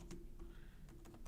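Fingers tapping keys on a computer keyboard while setting up an AWS security group, a few quick soft clicks in short bursts over a quiet background.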